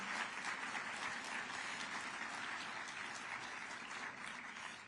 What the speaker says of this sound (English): So how about one more round of applause for all the speakers that went ahead?